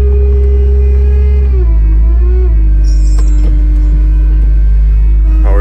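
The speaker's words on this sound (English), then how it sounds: "cold start on the EVO, running E85" A Mitsubishi EVO 8 running on E85 idles just after a cold start, a loud steady close-up drone that dips and settles into a lower idle, with a whine rising near the end.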